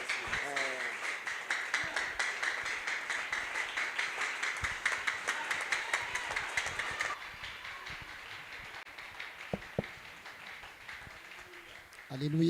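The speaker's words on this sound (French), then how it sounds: "Ces acclamations, c'est pour toi." Church congregation applauding and cheering for the Lord, a steady crowd of rhythmic clapping and voices that thins out midway, with a leader speaking over it.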